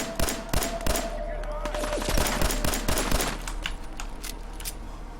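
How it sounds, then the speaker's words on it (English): Submachine gun fire in Fallout 4 comes in rapid, close bursts of sharp cracks, loudest at the start and then continuing in quicker, slightly softer rattling volleys. "Oh, that guy has a freaking submachine gun."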